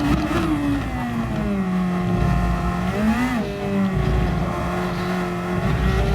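A race car on the Spa circuit in a racing game, engine note droning steadily then dropping in pitch with a brief rev blip as the driver brakes, loud and continuous with no talking.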